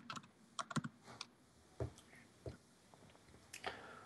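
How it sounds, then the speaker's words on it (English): Computer keyboard typing, heard as scattered keystrokes in quick bursts with pauses between them, close and quiet with no talking. "I'm trying to get my keyboard set up working."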